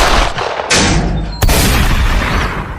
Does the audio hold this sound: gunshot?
yes